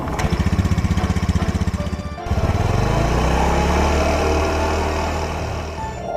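A motorcycle engine chugging in a fast, even pulse, then cutting out briefly before restarting into a smoother, higher revving drone, loud and close with no talking.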